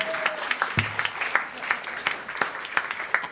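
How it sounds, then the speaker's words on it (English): Audience applause for a live venue's sound engineer, steady scattered clapping from a modest crowd at moderate volume, with a brief voice or tone underneath early on. "Please give a nice big round of applause to Joe."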